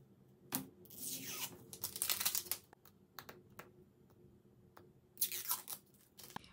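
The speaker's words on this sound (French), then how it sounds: "je l'ai enfin déballé" Packaging is torn and crinkled open around a 200 ml Gemey Maybelline 4-in-Glow Perfector in shade Light, with close bursts of ripping interspersed with sharp clicks and quiet handling pauses.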